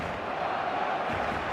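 Stadium crowd in the football video game eFootball, a steady, broad murmur and roar of many voices sustained evenly throughout, moderately loud with no distinct cheer peaks.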